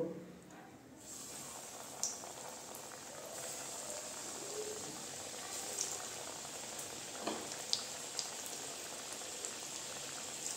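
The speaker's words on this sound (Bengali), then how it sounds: "এখন আমি একটা একটা করে চিকেনগুলো ভেজে নেব।" Chicken pieces for crispy popcorn chicken frying in hot oil in a wok, a steady soft hiss and bubble throughout with a few sharper crackles and pops, no talking.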